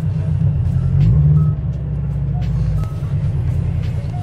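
A Subaru BRZ idles and creeps into a new condo garage, its low engine rumble steady and close, swelling slightly near the start, with faint higher beeps or tones appearing briefly over the drone.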